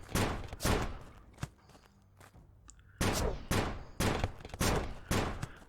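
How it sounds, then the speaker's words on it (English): Gunfire aimed at an enemy in the game Shadow of Loot Box: a few punchy shots, then a quieter pause, then a quick cluster of five loud, evenly spaced blasts close up. "Wait till he opens up, shoot him."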